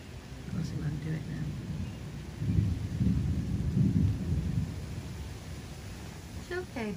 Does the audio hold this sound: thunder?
yes